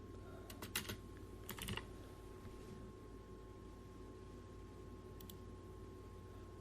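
Typing on a computer keyboard, entering a reference system in Elite Dangerous: quick clusters of faint key clicks early on, a brief pause, then a few more taps against a quiet, steady background hum.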